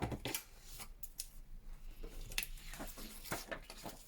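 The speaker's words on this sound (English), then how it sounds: "I'm going to cut these out." Scissors cut out paper pictures for collage specimen tags, with a series of close, crisp snips and paper rustles in an irregular rhythm and no talking.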